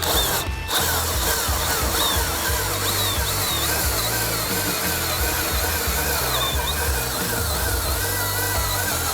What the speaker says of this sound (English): just use your hole saw on your outline of your hole